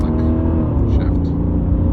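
A Mercedes E55 AMG with a tuned transmission and high mileage pulls hard under acceleration, its engine drone loud and steady with a speaking voice over it.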